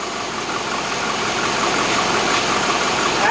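A Chevrolet Corvette engine idles steadily at close range, a continuous low rumble that holds an even level throughout with no talking over it.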